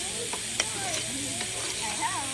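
Onions fry in a pan for a lazy biryani made while camping, with a soft continuous sizzle and a few utensil scrapes and clicks, under faint background voices.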